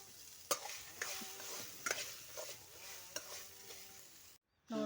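Sprouted legumes frying in oil in a pan, giving a soft continuous sizzle with a few sharp scrapes and knocks of a spatula stirring them, a brief silence, then a louder burst at the end.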